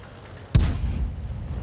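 Aircraft cannon fire in the A-46 in a combat video game: a sudden loud close burst, then a sustained rumbling roar that carries on to the end.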